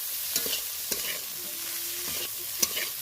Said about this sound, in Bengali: মশলার সাহায্যে কিছুক্ষণ নেড়ে চেড়ে এটা কষিয়ে নেব